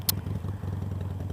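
Motorcycle engine running steadily at low pitch while out riding in 2015, a continuous close drone with a brief sharp click near the start.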